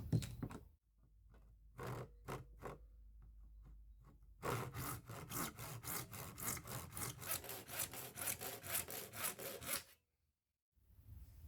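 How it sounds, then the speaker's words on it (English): A hand saw cuts through a clamped sheet of reclaimed perspex, first a few short trial strokes, then a long run of steady rasping back-and-forth strokes, close and even, ending abruptly in silence. "So if I clamp that to the table, we should be able to cut it fairly safely."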